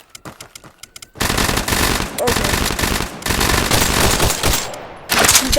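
Rapid automatic gunfire from a video game, loud, near and sustained in long bursts after a quieter opening, with brief pauses between volleys and no voices over it.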